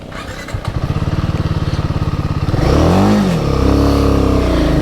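A vehicle engine held in second gear on a rainy mountain road toward Kinnaur and Spiti, a loud, steady rhythmic thrumming that rises in pitch and stays close throughout.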